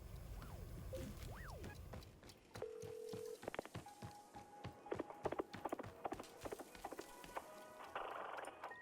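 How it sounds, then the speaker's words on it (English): Horse hooves clip-clop in the tea-making video game Wanderstop, a run of sharp, evenly spaced clicks mixed with other soft game tones at fairly low volume. "Anyone hear a horse?"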